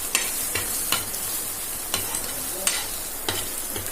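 Eggs with turmeric, chili powder and salt sizzle on a hot tava for bhurji, with a steady frying hiss and sharp scraping stirs landing every half second or so, close and alone.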